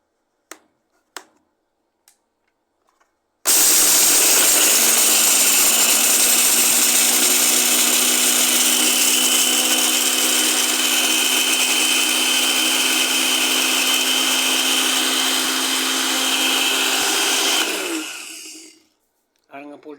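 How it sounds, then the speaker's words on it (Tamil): A few sharp taps, then a mixer grinder grinding pepper, cloves and cinnamon whirs loudly and continuously for about fifteen seconds before winding down and stopping. "மிக்சியில் போட்டு அரைச்சிக்கலாம்"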